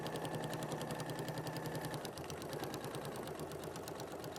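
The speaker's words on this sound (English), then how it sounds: "it makes a nice noise as well when you sew through it" Sewing machine with a walking foot stitching through TPU fabric for a bag, a fast, even, rhythmic chatter heard up close with no talking.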